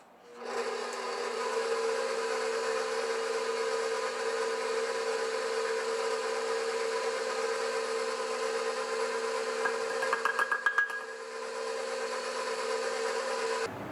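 A KitchenAid stand mixer kneads whole wheat bread dough with a steady motor whine that starts abruptly, runs evenly, briefly rattles near the end, then cuts off.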